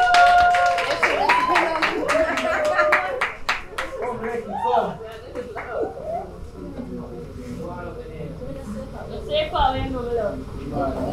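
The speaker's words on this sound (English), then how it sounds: "Give Lekki a round of applause," Scattered hand claps ring out at a heritage day event as a performer is welcomed, sharp and fairly close at first, then fading under ongoing talk and voices.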